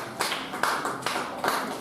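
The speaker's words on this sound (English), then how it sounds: "Clap your hands once again and celebrate God." During a church worship service, a congregation claps along in a steady rhythm with regular accented beats. The clapping sounds dense and fairly close, and no speech is heard over it.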